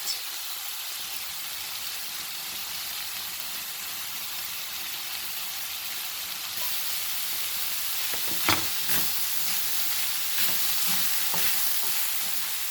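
Butter melting in a pan for a garlic mushroom sandwich, a steady soft sizzle and hiss that grows slightly louder partway through, with a few faint clicks and scrapes and no talking.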